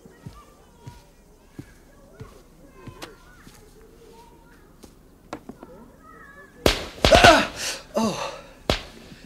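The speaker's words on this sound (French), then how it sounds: "Des pétards, c'est le 4 juillet." Firecrackers go off on the Fourth of July: scattered faint snaps, then a cluster of loud, sharp cracks in quick succession, followed by one more pop.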